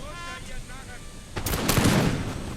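Musket volleys and artillery fire erupt in a Napoleon: Total War battle, a sudden loud burst of cracking gunfire and booms that rolls on after a quieter stretch with a faint tonal hum.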